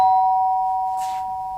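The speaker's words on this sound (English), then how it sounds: "Just then the doorbell went." A doorbell chime rings once, a sustained bright tone that slowly fades, with a brief soft rustle partway through.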